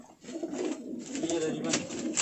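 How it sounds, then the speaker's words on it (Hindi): Tonk high-flying Bajre pigeons coo softly in low, throaty murmurs, close by, with a faint voice mixed in. "ये देख सकते हैं माशाल्लाह क्या ज़बरदस्त कबूतर हैं फराज भाई के।"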